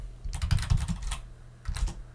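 Computer keyboard typing while entering commands in a Linux Ubuntu terminal: a quick close burst of clustered keystrokes, a short pause, then a second brief flurry of taps, with no voices.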